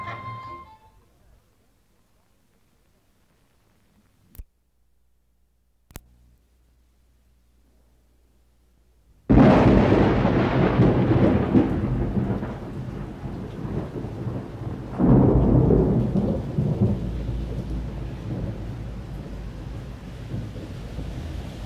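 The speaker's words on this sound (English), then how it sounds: "Japan, like anywhere else in the world, has its share of thunderstorms." A brief thunderstorm in Japan starts after near silence with a few faint clicks, then breaks into a loud, dense roar of heavy rain and thunder, with a second rumbling surge a few seconds later.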